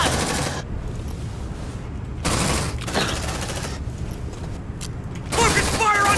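Squad weapons fire in bursts during a fight in Aliens: Dark Descent, dense gunfire blocks separated by quieter stretches of combat noise and voices.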